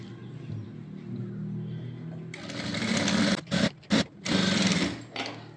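A sewing machine stitches blouse lining cloth in fast, loud bursts that stop and restart several times, following a quieter stretch with a low hum.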